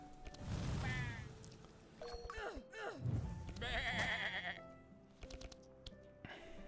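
Repeated sheep bleats from a video game, wavering and fairly loud, broken by short gaps, with a few soft clicks and some speech-like sounds mixed in.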